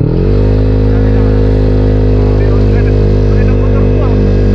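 A motorcycle engine drones loudly and steadily while riding, with a constant low hum close to the rider, and voices faintly underneath.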